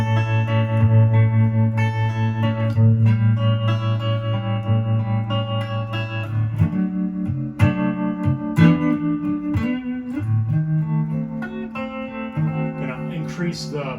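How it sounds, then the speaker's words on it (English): An electric guitar plays sustained notes and then shifting melodic phrases through a Surfybear Compact Deluxe spring reverb with tremolo, the pulsing, reverberant tone loud and close throughout. "I'm gonna do the tremolo now, reverb 1, right?"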